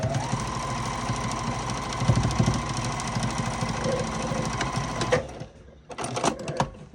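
A sewing machine runs steadily while stitching a fabric seam on a homemade gift basket, a continuous close whirring chatter for about five seconds, then stops, followed by a few short bursts of handling noise.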